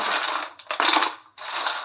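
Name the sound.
crunching of crispy fried wheat flour and fenugreek snacks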